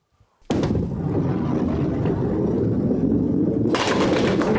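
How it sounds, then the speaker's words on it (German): A bowling ball rolls with a loud, steady rumble down a bowling alley toward the pins, then a bright, crashing burst near the end as the pins are knocked down. No voices. "Und hier mit der Kugel versuche ich gleich, die Kegel da hinten umzukegeln."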